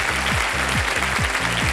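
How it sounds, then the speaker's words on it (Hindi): Studio audience applause for a contestant in the hot seat on the quiz show Kaun Banega Crorepati season 15, a steady dense clapping throughout with a low musical sting pulsing underneath. "ताली बज जाए इनके लिए"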